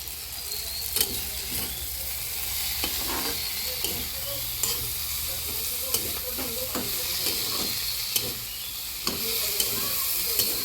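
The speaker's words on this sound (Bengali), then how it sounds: "এই যে বেগুন ভাজি করেছি লম্বা লম্বা করে" Long eggplant slices fry in a pan with a steady sizzle and hiss, punctuated by regular scraping stirs of a utensil and faint background voices.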